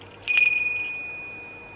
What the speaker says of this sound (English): It's a brass hand bell.